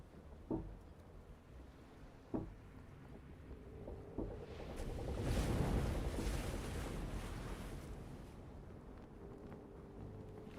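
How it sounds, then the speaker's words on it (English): Boat and ocean water sounds in The Room Two puzzle game: soft creaks and knocks, then a swelling wash of waves and wind that rises, peaks, and slowly fades under a steady low ambience. "I like the boat noises."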